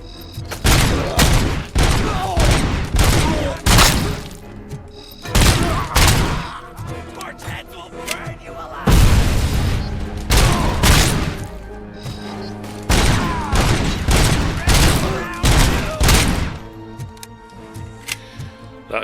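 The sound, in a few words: gunfire in the video game RoboCop Rogue City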